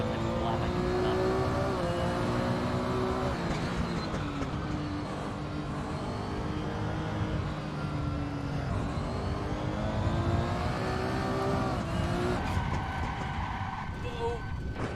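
Porsche GT3 race car engine in the racing game ACC, a sustained droning roar rising and falling through gear changes under steady acceleration, with speech mixed in.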